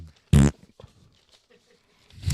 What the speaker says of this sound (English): insert fart noise